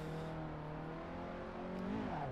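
A Peugeot 206 with a 1.1-litre petrol engine drives in the Assetto Corsa racing game, its engine holding a steady, buzzing drone that climbs briefly in pitch as it revs near the end, faint and alone.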